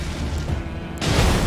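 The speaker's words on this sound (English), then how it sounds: "Yeah, I can use Fire Grease on this now." A Fire Grease burst erupting on an enemy in Elden Ring, a sudden loud whooshing boom that swells after a second of quieter rumble.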